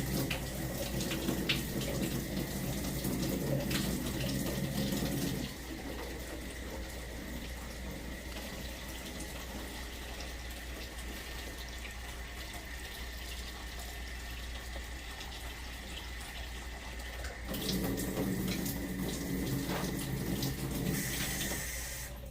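Water pours from a tap into a washbasin during a foot-care procedure, a continuous nearby rush that is fuller at the start and again near the end, with a softer, steadier trickle in between.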